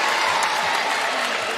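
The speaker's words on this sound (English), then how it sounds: "this home court advantage or home crowd has really gotten louder and louder" Home crowd at a women's NCAA basketball game between Gonzaga and Utah applauds loudly and continuously, a dense wash of clapping and cheering that fills the arena.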